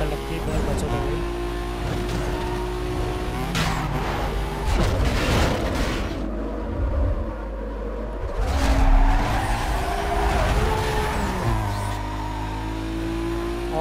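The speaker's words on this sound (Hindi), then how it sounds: "ओए होए कितनी ज़बरदस्त ड्रिफ्ट लग रही है" A car drifting in Need for Speed Most Wanted 2005, tires skidding and squealing over a droning engine that rises and falls. Someone talks excitedly over it throughout.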